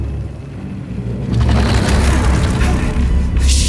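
A loud, sustained explosion from the video game Atomic Heart, set off to blow up a canister: quiet ambience, then a deep rumbling blast around 1.3 seconds that roars on to the end, with a brighter burst near the close.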